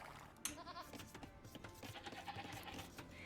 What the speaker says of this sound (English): Found my other sheep.